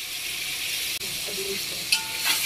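Masala with salt, red chilli, turmeric, whole garam masala and curry leaves sizzles in a pan for chicken biryani, a steady hiss broken by a brief clack and a few stirring scrapes.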